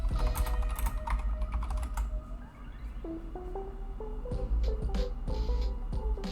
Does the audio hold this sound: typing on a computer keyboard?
yes